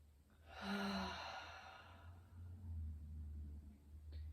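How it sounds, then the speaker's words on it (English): A slow, full breath drawn in through the nose and let out through the mouth during a yoga therapy relaxation, a soft audible sigh-like exhale, close and quiet over a low steady rumble, with no talking. "take a full breath in through your nose and exhale out your mouth"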